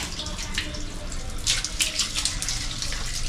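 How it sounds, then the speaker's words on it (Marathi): Tap water running while conditioner is rinsed from hair, a steady close hiss with soft splashing and patters throughout, no talking. "आता मी पाण्याने वॉश करते."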